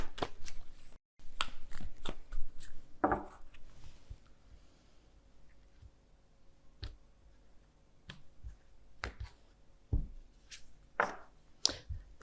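Oracle cards being shuffled during a tarot reading, soft papery riffles and taps in scattered quick clusters with pauses between, close and quiet, no talk.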